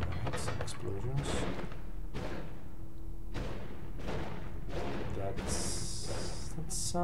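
Repeated explosive bursts from chain-reaction blasts in the roguelite wand-casting game Noita, a dense run of loud booms and thuds with game music and effects layered over them, and a voice talking now and then.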